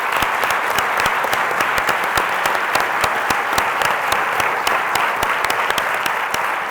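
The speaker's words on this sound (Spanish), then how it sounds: "Eso merece otro aplauso." An audience at a book presentation claps steadily and warmly, a dense even wash of many hands with crisp individual claps standing out close by.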